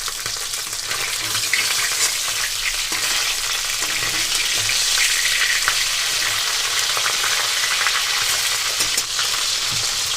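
Pakal fish frying in hot oil for a potato-and-tomato curry, a steady, close, dense sizzle and crackle running the whole time with occasional stirring noises and no talk.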